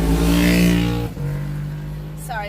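Car interior while driving: a steady low engine hum and road drone, with a brief dip and a faint squeal near the end, heard close and continuous.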